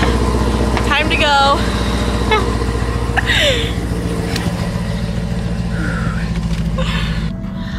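A car engine idles loudly with a steady low rumble throughout, while a person's voice chatters over it near the microphone.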